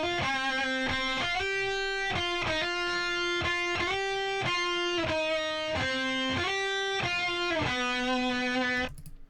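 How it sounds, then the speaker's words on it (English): Distorted electric guitar lead with chorus added, a steady run of sustained and bending notes in a heavy mix, loud and continuous with no talking until it cuts off near the end. "And then what I did at the end here was I added a chorus."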